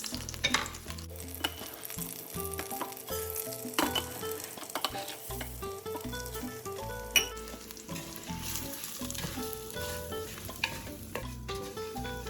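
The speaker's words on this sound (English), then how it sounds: "I'm gonna stir it occasionally just until the rice gets this nice toasty golden color" Two cups of rice toasting in oil with garlic and onion for Mexican rice, stirred with a spoon that scrapes and clinks against the pot over a continuous sizzle, close up and with no talking.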